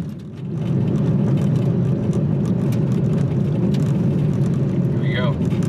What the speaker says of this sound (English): And another car heading down the road.